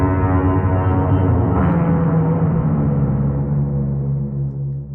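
An ominous, layered creature sound built from processed animal recordings, a dense low drone with stacked tonal harmonics that swells slightly midway and slowly fades, heard alone without speech.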